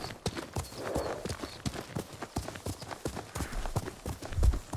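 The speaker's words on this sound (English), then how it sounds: "I'm on a horse." Horse hoofbeats in the video game Ghost of Tsushima, a rapid, steady clip-clop of galloping hooves heard up close and continuing throughout.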